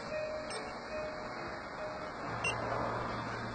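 A Juki bartack sewing machine gives a short electronic beep around the middle, set against steady machine hum and background noise.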